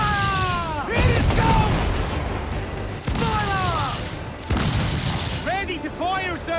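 Naval cannon fire in Assassin's Creed IV: Black Flag ship combat, several heavy booms spaced a couple of seconds apart, mixed under shouted crew voices and game music.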